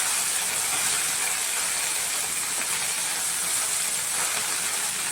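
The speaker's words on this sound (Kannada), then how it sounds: "ಎಣ್ಣೆಲಿ ಇದು ಚೆನ್ನಾಗಿ ಫ್ರೈ ಆಗಬೇಕು." Paste made with mango and oil frying in a pan, giving a steady, dense sizzle and hiss that runs unbroken through the whole stretch, close and fairly loud with no talking.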